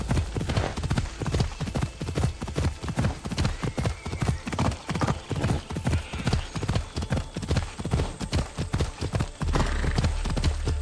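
Video game horse trotting at a brisk, regular clip-clop, the hoofbeats loud and close in a steady rhythm, with a low rumbling bed of ambience and a whinny-like tone in the mix.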